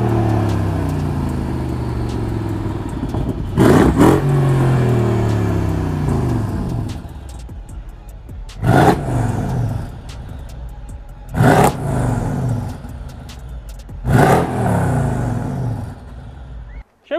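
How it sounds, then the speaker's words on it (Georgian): A Mercedes CLS 63 AMG with a V8 BiTurbo engine idles loudly and is revved in four sharp bursts, each rising to a roar and falling back to the idle rumble. "მოდი დავქოქოთ, აქვე ხმა გავიგოთ, თუ როგორი ხმა აქვს ჩვენ მონსტერს."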